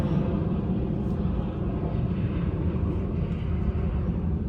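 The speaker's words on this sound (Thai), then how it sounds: "เครื่องบินก็เสียงดังเหลือเกิน" A loud airplane passing overhead, a steady broadband roar holding for the whole stretch, at a Thai used-car lot beside a 2016 Toyota Hilux Revo 2.4 diesel pickup.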